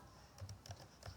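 Light typing on a computer keyboard: a short burst of several crisp key clicks in an uneven rhythm, close and quiet, with no talking.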